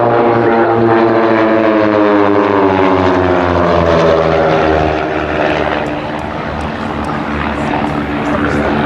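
A propeller touring aircraft flying at an air show drones loud and close, its buzzing engine harmonics sliding in pitch as it passes, then easing slightly toward the end.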